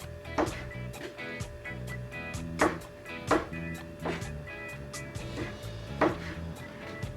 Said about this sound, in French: Je vais découper un petit peu.